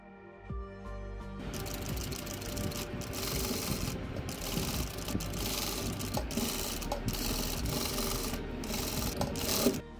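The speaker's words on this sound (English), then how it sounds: "Mark along the border and stitch from the outer side for a clean finish." A sewing machine stitches along the border of a fabric bag, a continuous close mechanical whirring chatter after a brief start, steady and moderately loud, no speech.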